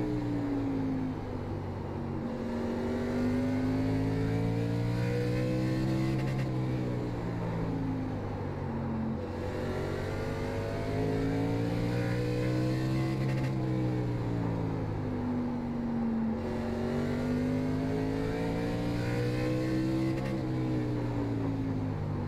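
K&N National Series stock cars racing at Southern National in iRacing, engines droning steadily and loudly with rising and falling pitch through repeated shifts and corners, no talk over it.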